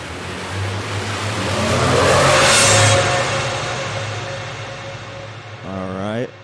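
A gritty custom riser for movie trailers builds from a steady low drone into a loud, noisy swell peaking near the middle, then thins out before a rising series of whooshing sweeps closes it, with no voices.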